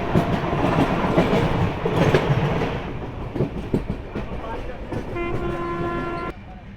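Akal Takht Express train travelling non-stop at 130 km/h between Kolkata and Asansol, a steady loud rumble of wheels and rail noise with a tonal horn-like blast near the end, heard from on board.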